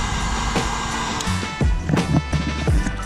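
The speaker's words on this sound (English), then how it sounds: "Not a hairdryer. My friend has a fancy heat gun." A handheld heat gun blows continuously for heat wrapping during an e-bike motor swap, a loud steady airflow roar with a few knocks and handling clatter over it.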